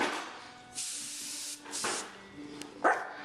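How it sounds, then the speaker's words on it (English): Several short bursts of spray hiss from a nozzle onto an Apple iMac's parts during a hard drive replacement, separated by brief pauses, close and fairly loud. "Spray it off too."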